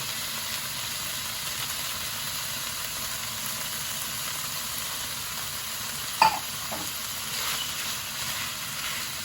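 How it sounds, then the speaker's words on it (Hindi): Chili being stirred into a chicken mixture in a pan, a soft continuous sizzle and scraping with a brief sharper clink of the utensil against the pan midway. "इसको अच्छे से मिक्स करते हैं।"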